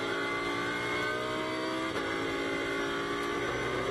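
A GT race car at Imola brakes into the Tamburello turn, its engine note droning steadily with a slight dip in pitch as it slows, heard close and fairly loud.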